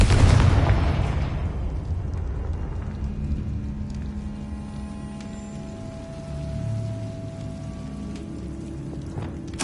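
A Confringo spell explodes in Hogwarts Legacy, a loud booming burst at the start that fades into a long rumbling, crackling tail with scattered debris sounds.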